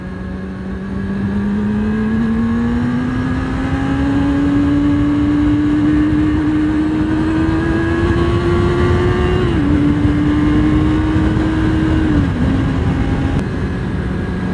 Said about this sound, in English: Really pulls hard in the mid-range, which is quite refreshing for a 600cc machine.